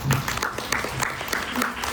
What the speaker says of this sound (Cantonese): 我哋俾啲掌聲好唔好啊？